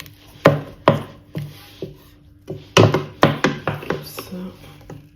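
Elastic dough for Congolese puff puff doughnuts is worked by hand in a bowl, giving a series of close, dull slaps and thumps at an uneven rhythm, some in quick clusters, with low background hum.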